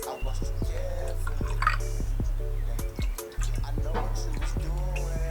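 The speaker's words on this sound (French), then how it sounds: "dans lequel on met 10 centilitres d'eau" Water is poured into a drinking glass, heard up close as a continuous run of trickling, dripping notes that rise in pitch as the glass fills.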